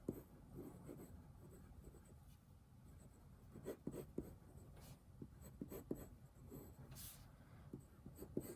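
Pencil sketching on paper for a K-12 comic book: a steady run of soft, close scratchy strokes with irregular rhythm and occasional sharper taps, alone with no talk.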